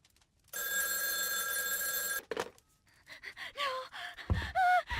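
A telephone rings in the Friday the 13th Virtual Cabin video game, one steady electronic ring lasting about a second and a half, followed by clicks, gasps and breathy sounds.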